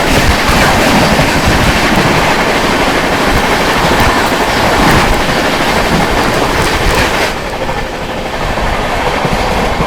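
The Sitamarhi–Anand Vihar Lichchhavi Express approaching, a loud, continuous rush of wheels and rolling stock with steady rail clatter filling the whole stretch, easing slightly toward the end.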